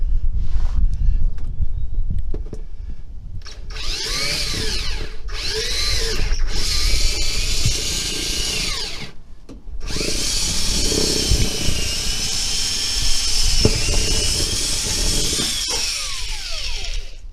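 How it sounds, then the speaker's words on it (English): A power drill with a 3/8 bit whines loudly up close in several bursts while drilling through a 2020 Ford Super Duty truck, stopping briefly between them, its pitch shifting as the bit bites through material. "I'm using a 3/8 drill bit, and I'll just go right through here."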